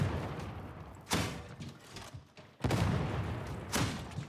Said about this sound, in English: aim this into an Ogryn's face and watch it explode